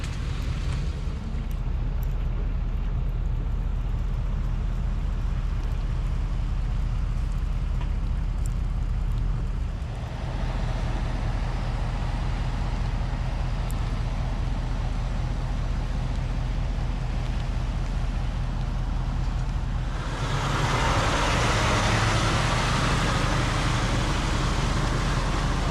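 Komatsu 30-ton haul truck rolling past, a steady deep engine rumble heard from a nearby vehicle that swells louder and brighter in the final seconds as the truck draws close.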